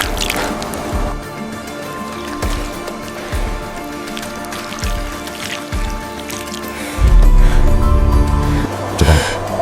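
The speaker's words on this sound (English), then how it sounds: "The frail man scoops water for the child to drink," Water is scooped and drunk in a prehistoric setting, heard as repeated wet drips, splashes and gulping slurps, fairly close, with a louder splashy burst near the end and no voices.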